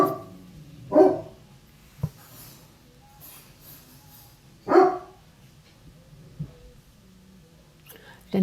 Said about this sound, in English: He's just barking at whatever.